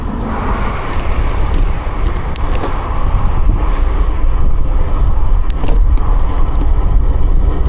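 A car passes a cyclist on a road, its engine and tyre roar rising and falling under steady heavy wind buffeting, with no speech.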